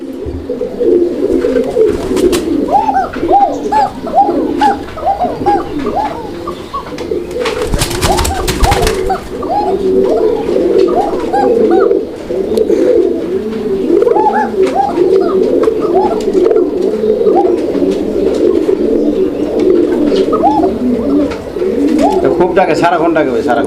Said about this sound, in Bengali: এতক্ষণ এই কোকাটাই কিন্তু ভরপুরভাবে ডাকতেছিল দেখেন